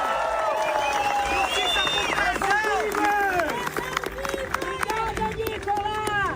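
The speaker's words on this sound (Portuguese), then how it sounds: "Eu peço agora uma salva de palmas pro Clezão." Applause and cheering from a crowd at a political rally and march in Brazil, steady and dense throughout, with shouts and voices rising over the clapping.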